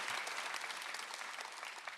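A church congregation at a Sunday worship service applauds, a dense and continuous clatter of many hands clapping at once that holds steady throughout.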